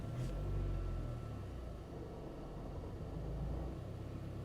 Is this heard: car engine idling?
yes